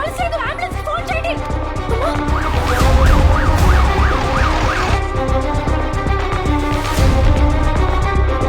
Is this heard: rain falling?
no